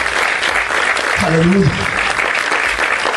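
A church congregation at an evangelistic campaign service claps in a loud, steady wash while one voice calls out briefly over the applause midway.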